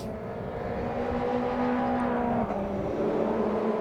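Formula Renault 2.0 race cars from the 2007 Eurocup season roaring together on track, a dense steady engine drone with a sustained whining pitch that dips and shifts as the pack brakes and accelerates, loud and continuous without speech.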